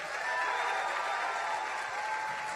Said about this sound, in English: Let's give another round of applause for the military in the room